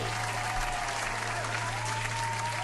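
A burst of steady applause, dense clapping from a crowd holding at an even level throughout, with a low hum underneath.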